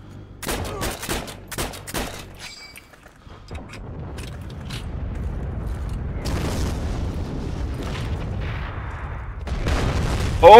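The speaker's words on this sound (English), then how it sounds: "Oh shit! Artillery!" Artillery fire in the World War II shooter Heroes and Generals: rapid sharp bursts open, then deep rumbling explosions roll in and swell louder toward the end.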